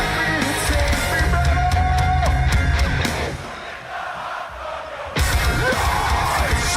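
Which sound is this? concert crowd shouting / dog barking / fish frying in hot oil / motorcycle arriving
concert crowd shouting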